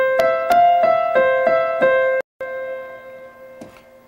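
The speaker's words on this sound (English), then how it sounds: "here's how the right hand melody sounded without the extra note that we're going to add in" A single-note piano right-hand melody played without added harmony, a series of evenly spaced plucked notes with a brief gap, then a held tone and one more note, clear and close.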